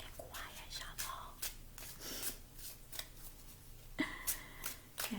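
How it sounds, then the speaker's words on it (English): Tarot cards shuffled quietly by hand, a series of soft papery riffles and flicks in short irregular bursts, faint and close, with light whispery breath between them. "I think I can quiet shuffle"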